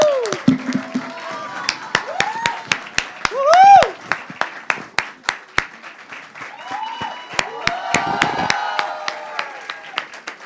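An audience claps loudly to welcome a singer at a press conference: sustained, dense applause that swells and carries on for several seconds as a crowd sound rather than individual claps.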